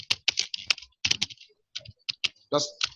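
Quick bursts of keystrokes on a computer keyboard, close and crisp, with irregular rhythm and short pauses between clusters of clicks.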